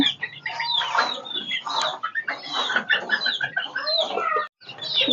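Country chickens on a small poultry farm cluck and chatter close by in busy, overlapping bursts, with short gaps and one brief silence near the end.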